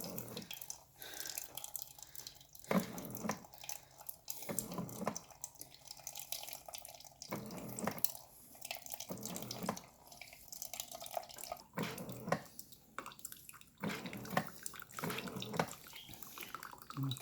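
A Keurig brewer, freshly descaled, dispenses water into a cup with a steady pour broken by irregular gurgles and spits, close and moderately loud.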